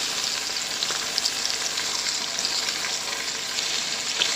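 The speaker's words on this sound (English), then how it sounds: "So like I said, I'm just searing all of this right now. I started it with the skin down." Chicken pieces searing skin-down in hot oil in a pan for homemade chicken soup, a steady close crackling sizzle with no pauses.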